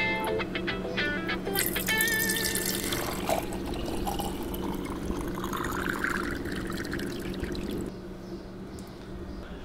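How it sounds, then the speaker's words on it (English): Coffee pours steadily from a French press into a jar for several seconds, a continuous trickling splash with faint clinks, then quiets slightly near the end. "I just hold the top as well while I pour."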